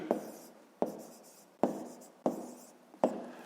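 A pen writes numbers by hand on paper, five crisp strokes landing at a steady rhythm about every three-quarters of a second, each a sharp tap trailing into a soft scratch, close and alone.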